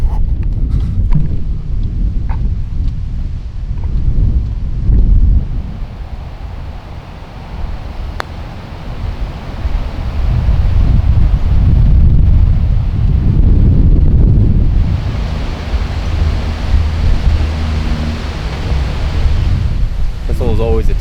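Steady wind across an open golf course, roaring and buffeting the microphone as low rumbling gusts that rise and fall throughout, loud and continuous with no break.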